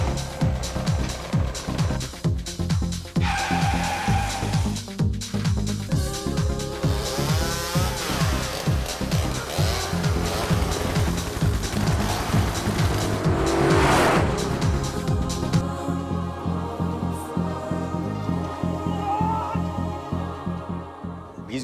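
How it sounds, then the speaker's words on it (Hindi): Movie stunt cars race and crash for the film Kites, with engines revving hard and tires squealing through repeated skids over a sustained stretch, loud and close, with no talk. "car crashing and explosions."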